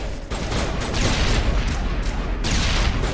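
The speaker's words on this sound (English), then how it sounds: "That grenade is fire." A grenade explodes in the video game Mass Effect amid a dense burst of gunfire, a loud blast followed by rapid overlapping cracks and rumbling that fill the whole moment, with no speech.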